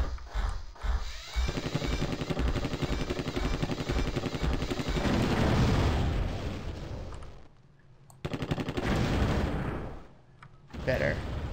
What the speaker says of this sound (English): Are my shots bouncing off and just hitting me?